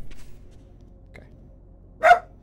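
Dog Shadow gives a single short bark near the end, loud and close, following a quiet stretch with a couple of faint earlier yips.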